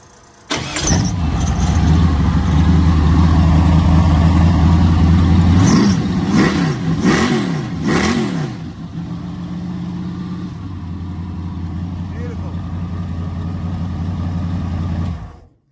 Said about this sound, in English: at the sound of your V8 engine